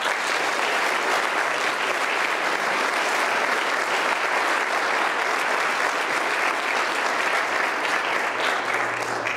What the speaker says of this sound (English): a fine round of applause for a job very well done.